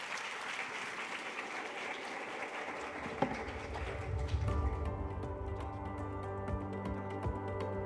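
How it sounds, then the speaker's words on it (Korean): An audience at a startup demo day claps warmly to welcome the first presenter. The applause is dense for a few seconds, then thins out as a steady, tonal musical sting rises and carries to the end. "여러분들의 따뜻한 박수가 발표자에게 큰 힘이 될 것 같습니다"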